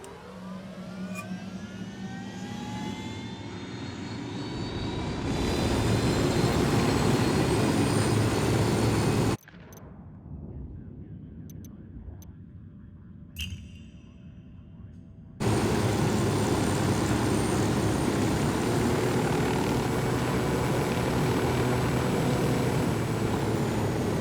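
Helicopter in Ghost Recon Wildlands, a loud steady engine and rotor roar filling most of the clip, cutting briefly to a quieter muffled stretch before the full roar returns.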